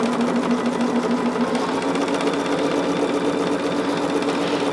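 Sewing machine stitching quilt block pieces, a fast steady mechanical whir and rapid needle chatter running continuously and loud with no talk.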